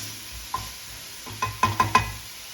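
Spinach being stirred in a pan with milk while cooking a palak dal, giving a few soft scrapes and clinks over a faint low sizzle, close and fairly quiet.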